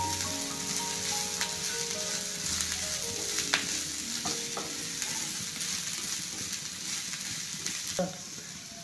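Shredded cabbage for Kerala cabbage thoran stirred in a pan, steady soft sizzling with scraping spoon strokes and occasional clinks against the pan, no voices.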